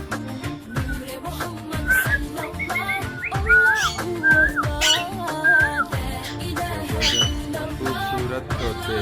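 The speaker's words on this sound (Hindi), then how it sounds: "खूबसूरत तोते," Parrots and cockatoos at Lahore Zoo give repeated whistles and rising squawks in quick bursts, loud and close, over a busy background of other calls.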